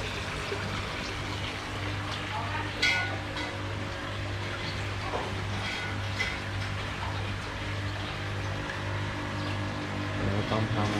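Small waterfall splashing steadily into a backyard koi pond beside a bedroom, a continuous close trickle and gurgle with a low steady hum underneath and faint clicks.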